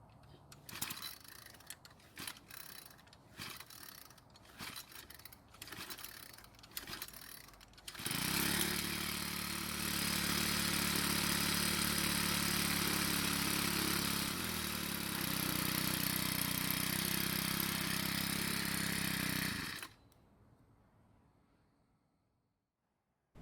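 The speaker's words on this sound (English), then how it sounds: "I'm not happy with how many pulls it took to start this engine" A Troy-Bilt edger's small engine is pull-started with repeated rapid cord yanks, then catches and runs loudly at a steady buzzing idle for about twelve seconds before shutting off and going quiet.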